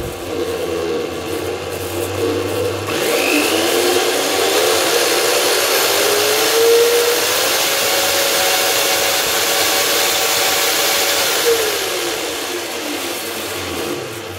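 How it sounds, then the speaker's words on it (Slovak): A Parkside PMB 1100 band saw switches on after a moment of quiet and runs steadily, a loud continuous motor whine and blade hum with a slight pitch shift midway, close by and with no talking. "Vyskúšame si hlučnosť tej píly, takže tu je spúšť."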